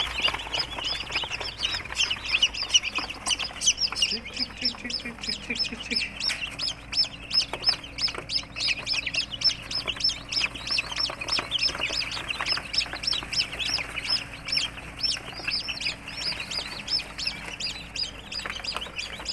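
Dense, constant peeping of many newly hatched chicken chicks crowded together in a cage, high and shrill, with occasional lower clucks underneath.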